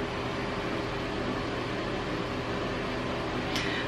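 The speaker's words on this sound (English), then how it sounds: "excuse the noise, the light and the fan in here are on the same switch." A room fan wired to the light switch gives a steady, broadband whooshing hum that fills the space evenly from start to finish, with a brief faint tick near the end and no talking.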